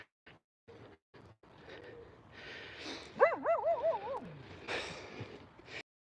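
A dog named Harris, one of six on a group walk in Edinburgh, lets out a short burst of whining yips and barks, fairly close, amid outdoor rustle and handling noise.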